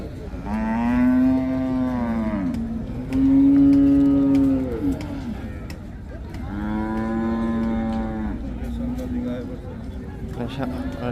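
A dairy cow at Hazratpur cattle market near Dhaka gives three long, loud, drawn-out moos in a row, each rising and then sagging, set against steady background bustle.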